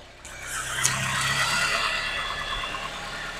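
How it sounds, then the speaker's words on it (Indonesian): A Nissan X-Trail T30 engine with a rough idle and white exhaust smoke from cold is revved lightly and then settles into a smooth, steady hum, running close and continuous. "kalau kita naikkan RPM-nya atau kita gas sedikit tuh suaranya halus"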